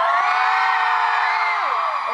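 Fans at a CNBlue showcase in Singapore scream loudly and continuously, a dense, sustained crowd roar of high-pitched shrieks that holds steady before dipping slightly at the end.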